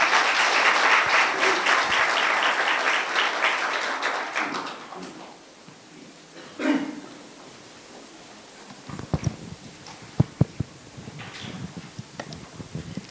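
Audience applause welcoming a professor to a symposium lecture on the expanding universe, broad and steady for about five seconds, then fading into scattered claps and a few sharp isolated taps.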